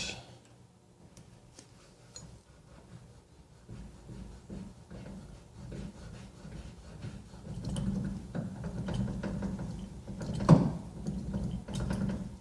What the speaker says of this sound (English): Alright, now to pull the front bolt out.